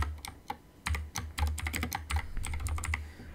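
Rapid, irregular clicking of a computer keyboard as HTML is typed, close and steady over a few seconds, with no voices.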